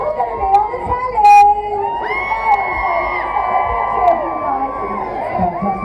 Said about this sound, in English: we want a massive cheer from you guys